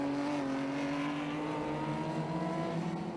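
Classic racing cars, including a light blue MGB, run on the Snetterton circuit, a sustained droning engine note that slowly falls in pitch as the cars pass at a moderate distance, with no talk.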